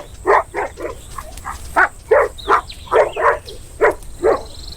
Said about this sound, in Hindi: ये कमबख्त तो गुर्रा रहा है।